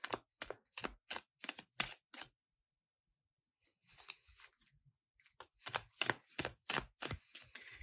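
Linen-finish tarot cards are shuffled overhand in quick bursts of crisp slapping flicks, a pause of near silence in the middle, then another rapid run of riffled snaps.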